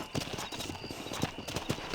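Horse hooves clip-clop in Red Dead Redemption, the Wild West game, as a steady, moderately loud rhythmic clatter of several hoofbeats over a background of ambient game sound.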